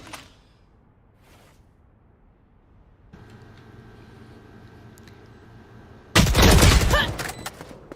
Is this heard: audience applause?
no